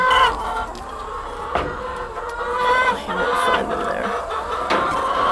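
Chickens cluck and squawk continuously nearby on a farm, several newly laying hens overlapping, with a rooster-like call rising out of the flock.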